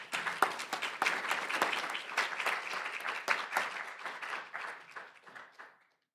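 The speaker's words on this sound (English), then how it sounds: "So everyone, please give a round of applause." An audience applauds with a dense patter of many hands clapping, steady and moderately loud, then tapering off and fading to silence.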